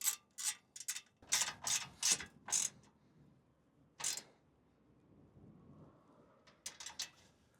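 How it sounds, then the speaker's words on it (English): A ratchet tightens the last bolt of a bash plate on a Voge 800 Rally motorcycle, heard as close bursts of rapid clicking in several runs with quiet pauses between them. "I can finally tighten this last bolt."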